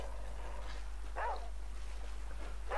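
A dog in the survival video game The Flame in the Flood gives a few faint whimpers and short yips over a steady low hum, each sound brief and scattered.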